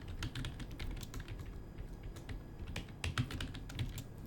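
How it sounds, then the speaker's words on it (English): Steady close typing on a computer keyboard, a rapid run of light key clicks over a constant background hum, with no talking. "I'm going to type TTS testing 1, 2, 3, 4, 5."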